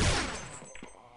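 Gunfire in Counter-Strike on the de_nuke map during a WCG 2011 match, a loud opening burst of shots that decays quickly, followed by a few faint distant pops.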